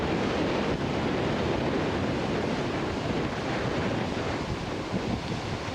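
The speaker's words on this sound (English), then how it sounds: "This is down the beach." Surf and strong wind roar along a sandy beach below dunes near a trailer park, a loud, constant rushing wash with wind buffeting the microphone and no talking.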